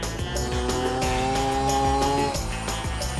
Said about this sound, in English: this powered skateboard is actually a lot of fun, despite being the slowest toy we've got here today